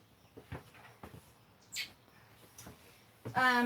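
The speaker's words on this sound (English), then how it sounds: "the girls found little baby birds. I don't know if they're robins or starlings" Baby robins or starlings, only three days old and being hand-fed, give a few thin faint chirps and squeaks, with a brief louder burst of calls at the end.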